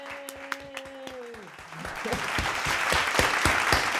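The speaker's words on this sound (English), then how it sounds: "Audience, you may unmute to applaud if you like." An audience claps at the end of a play performed online, with scattered early claps swelling into steady applause, while a voice sounds briefly at the start.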